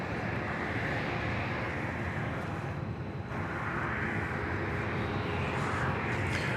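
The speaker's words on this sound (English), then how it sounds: "That was flight 3619. It is off to Montrose in Colorado." Jet airliner taking off from Dallas Love Field, a loud continuous broadband roar filling the whole stretch, briefly dipping near the middle before surging again.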